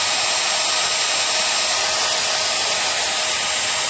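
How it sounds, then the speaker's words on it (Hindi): A Dewalt electric angle grinder running freely after a carbon brush change, giving a steady, loud, unbroken motor whine and hiss throughout with no speech. "इसका मैंने पावर इसकी ऑन की है तो अब जो है ना हमारी बिल्कुल भी स्पार्किंग नहीं हो रही दोनों साइड पर"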